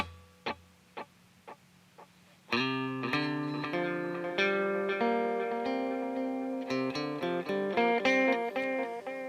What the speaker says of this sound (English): So we have a tape delay, which sounds like this